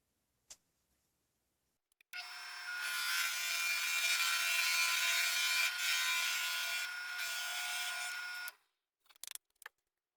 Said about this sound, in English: 3/4 of an inch Forstner bit, drill press set up to 1700 RPM.